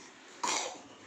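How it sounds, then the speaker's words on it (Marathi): A small child coughs once, a short harsh burst close by in a quiet home room, then fades back to low background noise. "खोकला जातच नाही"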